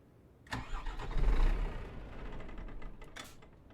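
A 14-year-old Scania S 370 truck engine under restoration cranks as it tries to start, a loud, close churning that surges, then slowly fades back down without settling into a steady idle.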